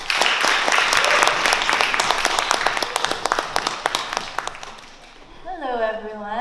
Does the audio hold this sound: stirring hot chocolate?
no